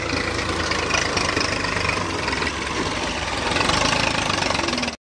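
A tractor engine running in Pakistan, a loud continuous diesel rumble with a knocking, vibrating chug, steady and close for the whole stretch before cutting off abruptly at the end.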